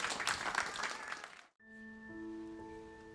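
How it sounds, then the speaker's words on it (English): Dense crowd clapping at a film screening for about a second and a half, then it stops abruptly and sustained musical tones take over. "please give another round of applause to this year's cohort."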